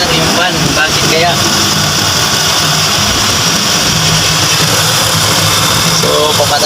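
A 2009 Honda City with an overheating problem has its engine running, a loud steady hum with fan noise underneath, and a voice speaks over it.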